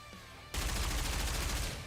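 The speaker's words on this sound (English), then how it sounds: "Dorothy's gunfire lashes in from all directions, hitting her mark" Rapid gunfire from the video game Nikke: Goddess of Victory erupts after a brief quiet moment, a dense, loud burst of overlapping shots sustained to the end.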